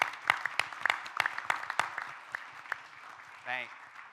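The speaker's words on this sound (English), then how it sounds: "Let's give these guys a round of applause." A small audience at a town hall meeting claps for the admissions staff, a sparse, fairly quiet run of separate claps, followed by a brief voice.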